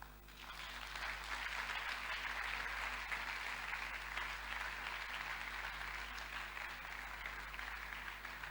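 A church congregation breaks into sustained applause at a French-language sermon, a dense, even wash of clapping from many hands that swells in quickly and holds steady for several seconds.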